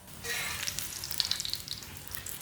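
An aloo gobhi paratha sizzles and fries steadily on a hot pan as it is turned, with soft crackling pops scattered through the sizzle and no talking.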